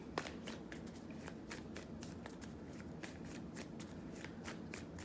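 Tarot cards are shuffled continuously at close range, a steady riffling, papery patter with repeated soft slaps as the deck is cut and worked, with no talking.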